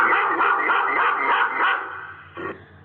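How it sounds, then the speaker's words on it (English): A dog barks repeatedly in a quick run of close, clear barks that fade into a short pause and then one final yelp. "I am friendly and guard your home. I am a dog."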